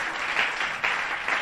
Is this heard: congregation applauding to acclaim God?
yes